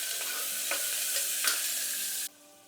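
Steady hot-oil frying of small onions, a dense bright sizzle with a few stirring scrapes, cutting off abruptly near the end.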